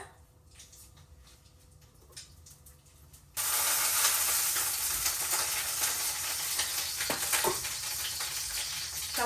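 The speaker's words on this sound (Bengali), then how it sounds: "তেলের মধ্যে দিয়ে দিলাম একটা তেজপাতা আর দিয়ে দিলাম যে সাদা জিরা" A bay leaf and white cumin seeds hit hot oil in a pan, bursting into a loud, steady sizzle after a quiet start, with occasional utensil knocks.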